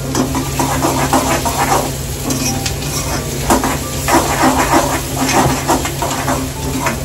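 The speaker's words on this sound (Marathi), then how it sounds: "कांदा बारीक कापून घेतलाय तो टाकला आपण." Finely chopped onion sizzles loudly in a pan of hot oil for stuffed brinjal, a continuous close frying hiss with occasional utensil scrapes and stirring clinks.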